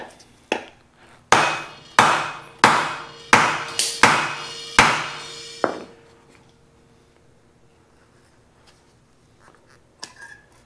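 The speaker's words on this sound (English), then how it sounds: "Mini sledge." A mini sledge strikes metal about nine times in a steady, ringing rhythm, each sharp close blow leaving a brief decaying ring, followed by a quiet stretch and a light clink near the end.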